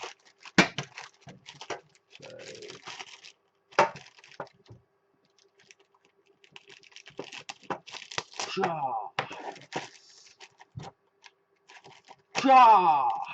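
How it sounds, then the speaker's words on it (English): Crinkly plastic rustling and tearing in short bursts, with brief clicks and a louder crackling burst near the end, interspersed with quiet talk. "Bit of sound effects to make the bag open up a bit quicker."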